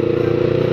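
A red motorcycle engine running close by, a loud steady buzzing drone with a rapid even pulse, heard alone without speech over the brief moment.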